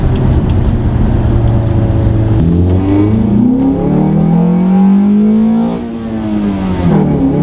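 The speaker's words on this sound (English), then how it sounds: "So watch me double clutch downshift in the second." Car engine revving during a double-clutch downshift from third into second: a steady loud engine drone, then a rev blip whose pitch sweeps upward before settling and dropping off near the end, close up and alone.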